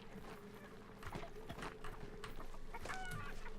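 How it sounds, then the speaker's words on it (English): Chickens clucking in the video game Hunt: Showdown, short scattered clucks and squawks over a quiet low ambient background, fairly faint and close. "Nah, screw chickens."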